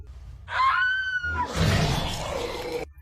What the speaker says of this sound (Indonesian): Suara jeritan terdengar jelas saat itu.